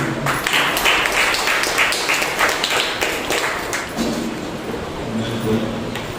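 A church congregation claps together in a dense, steady burst of applause during a Sunday service that fills the space, continuing for several seconds before easing slightly.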